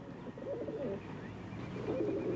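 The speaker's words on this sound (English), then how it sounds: "My pigeons sure aren't afraid of you." Pigeons give low, rolling coos in two soft phrases over a steady background murmur, close by.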